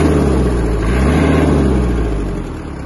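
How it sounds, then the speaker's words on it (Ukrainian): A Kubota X-20 mini tractor's small diesel engine runs steadily close by, a low rumbling chug that holds even before easing slightly toward the end. "працює двигун досить чисто"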